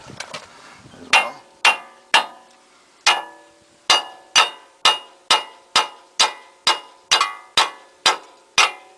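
A hammer strikes metal wheel bearing parts of a 2004 Ford Explorer, sharp ringing taps coming in a steady series of about fifteen hits, close and loud with no talking.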